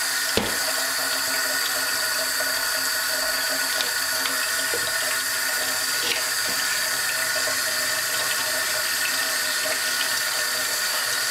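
Hot tap water runs steadily into a container for soaking cut plantains, a continuous, fairly loud rushing and splashing that lasts the whole stretch with no talking.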